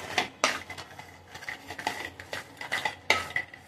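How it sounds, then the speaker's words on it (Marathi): Cashews, almonds and pistachios frying and being stirred in a pan, a steady series of close scraping and clinking strokes of a spoon against metal, with no talk over it. "चांगले तळून घेऊया काजू, बदाम आणि पिस्ता"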